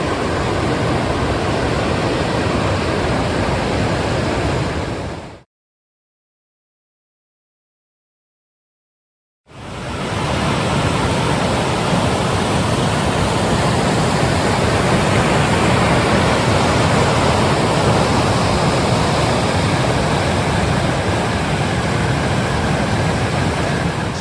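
Steady, full-bodied rush of water pouring down the rocky Woods Creek water slide on the Pacific Crest Trail, loud and close, briefly cutting out before the roar resumes unchanged.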